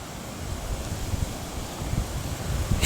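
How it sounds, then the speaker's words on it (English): Strong westerly wind from Storm Aiden buffets the microphone outdoors, making a steady low rumbling roar with gusty swells that grow louder at the end. "Huge amount of wind coming in from the west."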